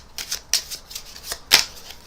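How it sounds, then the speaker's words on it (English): A deck of playing cards is shuffled in quick riffling bursts, crisp papery flutters repeating four or five times at close range in a quiet room. "Give it a good shuffle."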